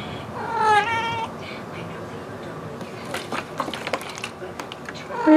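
A male cat yowls and caterwauls while humping a plastic water bottle held by hand, with drawn-out wavering cries near the start and end, scraping and rustling between them, and a person talking over it.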